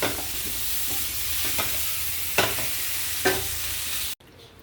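Potatoes frying with masala in a pan over low heat, a continuous close sizzle broken by a few stirring scrapes before cutting off abruptly near the end.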